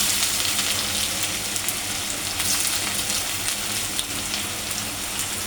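Hot oil sizzles steadily in a pan as assorted leafy greens fry, a dense, continuous hiss with crackling spatter and no pauses, close and fairly loud.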